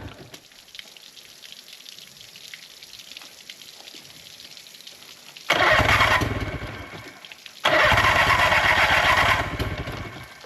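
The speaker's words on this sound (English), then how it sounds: "I can't believe that thing started like first crank." Outboard boat motor left sitting for three years, first a quiet idle-like background hum, then two loud bursts as it cranks and fires, each roaring strongly for about two seconds before dropping, close by with no talk.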